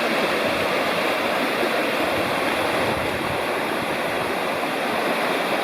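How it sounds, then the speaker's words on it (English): Flat Laurel Creek rushes below a lunch spot along the Blue Ridge Parkway, a loud continuous roar of flowing water close by with no voices. "here's some video of the creek below where we ate lunch"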